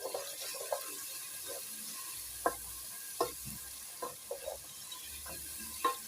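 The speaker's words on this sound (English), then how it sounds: "So as our onion is heating up" Onion with salt frying in a pan, a faint steady sizzle under scattered soft clicks and stirring scrapes.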